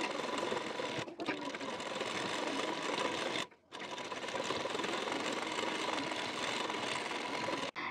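A sewing machine top-stitches along the edge of a blouse neck band, whirring steadily up close. The run stops briefly twice, with a longer stop near the middle, and no one speaks.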